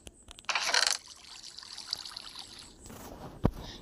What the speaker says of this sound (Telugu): ఇప్పుడైతే మనం అయితే వాటర్ బకెట్ అయితే తీసుకున్నాం. ఇన్ఫినిటీ వాటర్ సోర్స్ అయితే చేద్దాం.